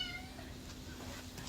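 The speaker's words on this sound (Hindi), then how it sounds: "काली बिल्ली" A black cat, a neighbour's new pet, gives a brief faint meow at the start, followed by quiet ambient background with a low steady hum.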